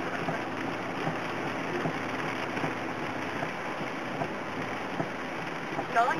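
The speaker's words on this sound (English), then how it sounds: "It's like every 5 minutes there's a major thunder shower. And each raindrop is a bucket of water." Heavy rain in a thunder shower drumming steadily on a car driving near Glacier National Park, a constant dense hiss and patter with road rumble underneath, unbroken throughout.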